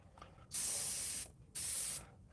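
A Paasche-style Patriot Aero 105 airbrush sprays in two close, loud bursts of bright hissing air, each lasting under a second, separated by a short quiet pause.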